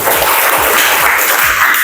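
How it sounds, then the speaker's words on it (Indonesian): A classroom group claps together, a dense, steady patter of many hands that fills the whole moment without pause. "tepuk tangan semuanya."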